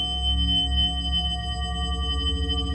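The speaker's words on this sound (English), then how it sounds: "I can play these notes and I can kind of put a frequency bend on them" Electronic synth tones on a visual synthesiser holding steady pitches with a sliding frequency bend in the lower notes, bright sustained harmonics and no voices.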